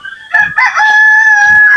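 A rooster crows loudly and close among free-range chickens at feeding time near a hut, one long sustained cock-a-doodle-doo following a short cluck.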